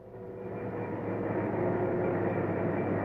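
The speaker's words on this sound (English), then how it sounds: "Fast freight number 40 is picking up speed again." A long Santa Fe fast freight train picking up speed, a steady low rumbling roar that swells gradually and holds loud and continuous, with no voices.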